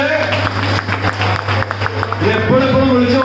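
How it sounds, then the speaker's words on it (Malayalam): Scattered clapping from a group at the Paropadi parambil family meet 2021, a family gathering, heard close by and mixed under a voice talking, with a steady low hum behind it. "കയ്യടി നിർത്ത്, കയ്യടി നിർത്ത്."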